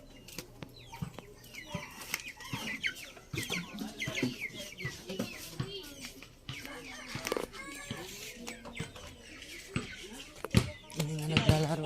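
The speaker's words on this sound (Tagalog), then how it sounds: "May mga manok sila dito. Yan, manok panabong." Fighting cocks in a village yard in Burgos, Rodriguez, Rizal, clucking and calling repeatedly at moderate distance, with a talking voice and general outdoor bustle running throughout.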